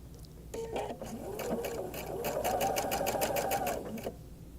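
A sewing machine runs a straight seam for about three and a half seconds, a steady close whir with a rapid stitching rhythm, starting and stopping cleanly with no talk over it.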